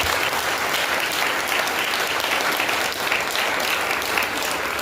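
Enthusiastic audience applause at a Maha Shivratri spiritual program honouring mothers, a loud, continuous roar of many hands clapping throughout.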